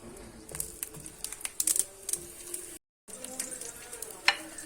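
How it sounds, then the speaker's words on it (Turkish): Eggplant slices for İmam Bayıldı sizzle and crackle in hot oil, with scattered sharp pops and occasional utensil scrapes close by. "Şimdi patlıcanlarımızı kızartıyoruz."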